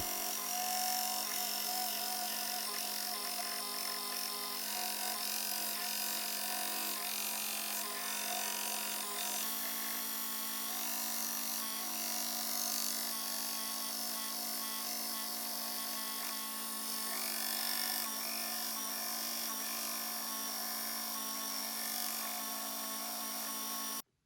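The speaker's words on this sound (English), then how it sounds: "I move over to my belt grinder to remove the rest" A belt grinder runs continuously, its abrasive belt steadily eating into a wooden knife handle on a Damascus bowie knife, with a constant motor hum and a shift in pitch partway through as pressure changes; no voices.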